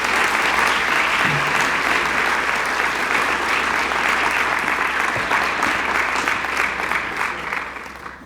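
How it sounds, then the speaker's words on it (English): Audience applause at the Bexley Distinguished Alumni Awards ceremony, a steady, loud burst of clapping from a crowd that holds for several seconds and then fades out at the end. "so a little round of applause for Marilyn Pritchett, too."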